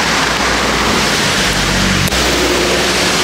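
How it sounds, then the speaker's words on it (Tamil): A waterfall near Munnar pours steadily in a loud, dense, unbroken rush of water, heard alone without voices. "அப்படியே பாருங்க நீர்வீழ்ச்சி"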